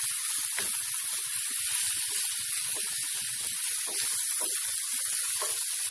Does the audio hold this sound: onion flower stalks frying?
yes